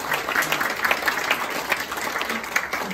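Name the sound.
applause for Dr. Nasimi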